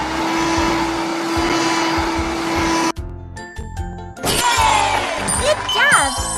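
Cartoon vacuum cleaner effects in a kids' cleanup video game: a steady whirring hum runs for about three seconds, then stops, followed by bright chimes, jingles and a cheerful voice over playful game sounds.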